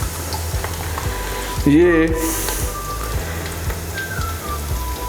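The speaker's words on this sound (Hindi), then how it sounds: "लहसुन और अदरक का पेस्ट है वो भी इसमें हम डाल रहे हैं।" Garlic and ginger paste drops into hot oil in a cooking pot and sizzles steadily, with a soft continuous crackle under a voice talking over it.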